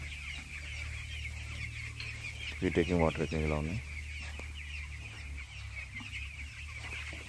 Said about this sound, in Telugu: ఇందులో ఒక 1500 కోళ్ళు